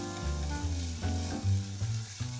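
Sage and garlic sizzle in a pan for a vegan cashew alfredo sauce, a soft, steady hiss of frying under background music with a few stirring scrapes.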